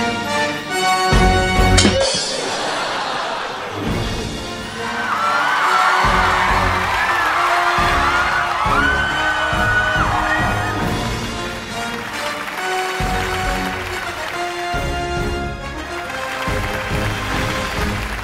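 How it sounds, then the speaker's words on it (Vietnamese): Studio audience at a Vietnamese televised memory competition applauds and cheers to welcome contestants, sustained loud clapping with whoops and shouts, backed by booming music stings and brief pauses. "Một tràng pháo tay nồng nhiệt chào đón Nhật Thịnh và Văn Khanh."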